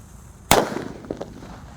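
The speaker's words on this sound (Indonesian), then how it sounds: "di sini ada mercon disco Happy Flower yang warna ungu guys" A sharp bang from a purple Happy Flower disco firecracker rings out, followed by a few smaller crackling pops fading in the open air.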